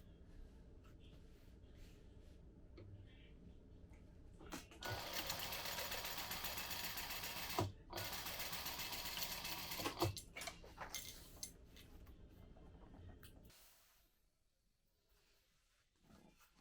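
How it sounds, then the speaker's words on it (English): A sewing machine runs in a steady burst of stitching down the middle of a fabric slip pocket, with short pauses and fabric handling before and after, close and fairly quiet, with no talk. "I'm gonna sew down the middle to make my little slip pocket"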